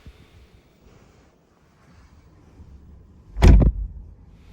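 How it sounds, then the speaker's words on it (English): A Mercedes-AMG GT Black Series car door pulled shut by its interior rope strap, giving one sharp, loud thud with a brief rattle, set against quiet cabin background. "I will close the door with this rope."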